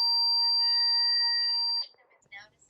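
A Qolsys IQ Panel 2 Plus security panel in alarm mode, tripped by an opened door sensor while armed away, blares a loud, steady, high-pitched siren tone that cuts off abruptly, followed by faint indistinct sounds.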